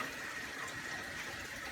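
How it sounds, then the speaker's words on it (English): Water gushes and splashes steadily around a camera lens as it is rinsed, a continuous close, moderately loud wash with no pauses. "let me just see if I can wash that lens in the water."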